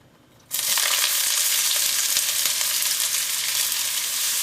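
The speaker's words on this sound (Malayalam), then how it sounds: "ഇതിലേക്ക് നമുക്ക് സവോളയും വെളുത്തുള്ളിയും ഇഞ്ചിയും വേപ്പിൻ്റെ ഇടയും ചേർക്കാം" Onion, garlic, ginger and curry leaves drop into hot coconut oil with a sudden loud sizzle that bursts on and holds as a steady, bright, close frying hiss, with faint crackles throughout and no talking.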